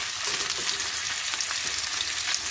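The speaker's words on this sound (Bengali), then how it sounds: "একটু তেলের মধ্যে ভেজে নিব শুটকিটা পেঁয়াজের সাথে" Dried fish frying in oil with onions in a pan, a steady dense sizzle with faint stirring clicks throughout.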